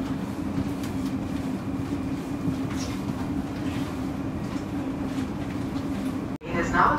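A South Western Railway train rumbles along as heard from onboard, a steady low roll with faint clatter throughout, broken near the end by a sudden cut and a brief burst of higher sound.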